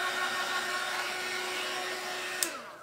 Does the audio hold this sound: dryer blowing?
yes